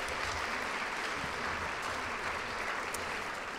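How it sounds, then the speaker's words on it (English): Steady, moderately distant applause from a ceremony audience honoring Women's Hall of Fame inductees, a continuous even patter of many hands with no voices breaking through. "Give them a round of applause."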